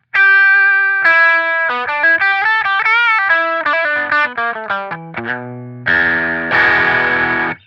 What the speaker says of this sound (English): That's the tube screamer. Nothing too rowdy there. It adds a little bit of dirt to the sound.